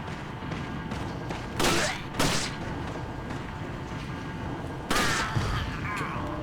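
Gunshots in the Resident Evil 4 game, a few sharp broadband bursts standing out over a steady noisy background, close and loud, with brief gaps between the first two and a later pair.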